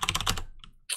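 Quick keystrokes on a computer keyboard while coding a Python Discord bot, a fast cluster of close clicks followed by a brief pause and one more tap.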